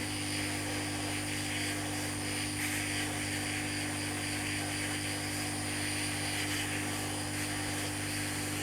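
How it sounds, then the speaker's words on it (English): A heat gun with a wide nozzle blowing hot air onto an Xbox One S motherboard during HDMI port replacement, a loud constant whooshing roar with a steady hum, close and alone. "which will let the heat come out of the heat gun a little bit easier"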